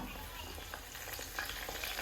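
Curry leaves crackle and sizzle in hot oil in a pan, a continuous close frying hiss with faint stirring scrapes and small pops.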